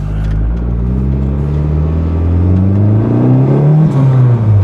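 A turbocharged car with a boost controller accelerates during a drive, the loud engine drone climbing steadily in pitch through the gears, heard close from inside.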